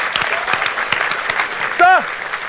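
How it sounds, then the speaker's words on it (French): Audience applause and cheering at a French rap battle event, steady clapping under excited voices, with a sharp rising and falling shout near the end. "D'ailleurs, applaudissez s'il vous plaît"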